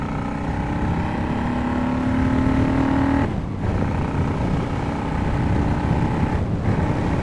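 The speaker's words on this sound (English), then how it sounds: "Oh, yeah, this bike feels so good to ride." A 2006 Honda VLX600 motorcycle cruising on the road, its steady engine drone buried in loud, constant wind buffeting across the microphone, with two brief dips where the roar drops out for a moment.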